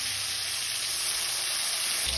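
Four salted snakehead fish pieces fry in hot oil in a kadai, producing a loud, dense, unbroken sizzle up close for a couple of seconds.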